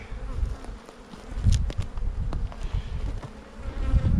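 Honeybees drone inside an opened box hive with queen trouble, a dense close buzz that swells and dips, broken by sharp knocks and rustles as the hive is handled.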